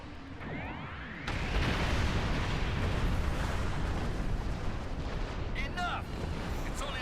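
The Doomsday Weapon fires in the space game Star Trek Online. A loud, sustained roaring barrage bursts in after a quieter opening and rumbles on without a break, with brief sweeping energy-beam zaps near the end.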